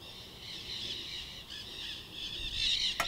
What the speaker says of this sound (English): there's a bunch of nandies flying around, so you'll hear them